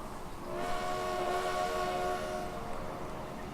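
A train runs in the video game Transport Fever, a steady rolling rumble with a sustained tonal whistle-like note swelling and fading in the middle, moderately loud and alone.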